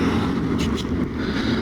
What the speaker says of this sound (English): Screaming exhaust.